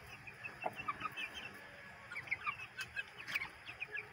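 Clucks and short calls from a group of 60-day-old Polish giant chickens, seven birds with one rooster among them, come in quick scattered bursts over a quiet, steady background. No one speaks.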